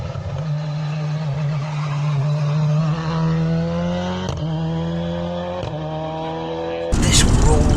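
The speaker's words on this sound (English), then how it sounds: "I'm going to show you an expert at work. This was Ken Block in 2019 on the same corner" Ken Block's rally car sliding through a corner on the Knockalla stage in Donegal in 2019: a strong engine note rises in pitch, broken by gear shifts, and ends in a sudden loud burst of noise.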